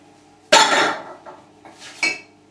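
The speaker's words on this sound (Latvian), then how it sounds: "Ņemam šķīvīti." A plate handled in a home kitchen while preparing to cook an egg in a microwave, a sharp ceramic clatter followed by a few softer clinks and scrapes, close by with no speech.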